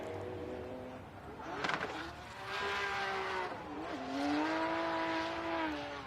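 A drift race car engine howls through a qualifying run, rising and falling in pitch as it revs, loud and sustained with a brief harsh burst partway through.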